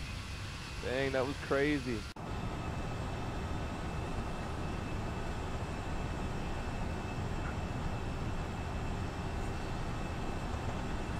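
Jet airliner engines roar steadily during takeoff in a flight simulator game, a parallel departure from Los Angeles bound for Dallas, with the roar continuing evenly after a voice at the start.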